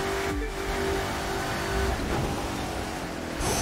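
A Corvette ZR-1 Convertible in The Crew 2 roars with a loud continuous engine note, shifting pitch as it revs and accelerates, heard close from the cockpit with no speech.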